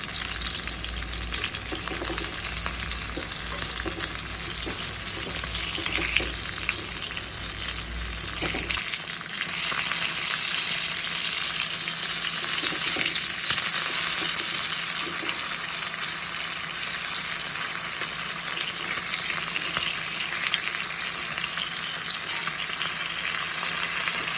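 River fish fries in a pan with a loud, continuous crackling sizzle close by. A deeper rumble under it drops away partway through while the hissing carries on steadily.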